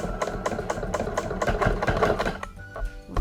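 A Bernina Q-Matic quilting sewing machine stitching in a fast, steady mechanical rhythm of needle strokes, close and loud, then slowing to a few final stitches near the end.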